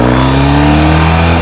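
A 1978 Yamaha XS650 motorcycle engine runs loud and close, a steady throbbing rumble with strong harmonic tones that rise slightly as it revs, with no voices.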